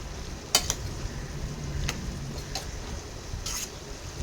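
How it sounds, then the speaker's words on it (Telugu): A spoon stirs chili powder and salt into a frying potato and tomato curry, with soft scraping and sharp clinks against the pan over a faint sizzle, quiet and close with no talk. "చక్కగా కారం, ఉప్పు కలగలిసేలా కలుపుకోండి"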